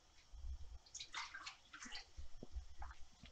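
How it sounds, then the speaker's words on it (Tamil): Water sloshes and gurgles as it is poured into a pan of thick methi leaf curry, with soft splashing bursts and low thuds, close and quiet, no talking. "கொஞ்சம் கெட்டியா இருக்கிறதுனால கொஞ்சம் தண்ணி ஊத்திக்கிறேன்."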